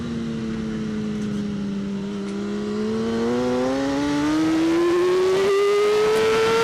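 A superbike engine at a race track revs steadily and smoothly as the throttle opens, its loud, close drone climbing in pitch without a break.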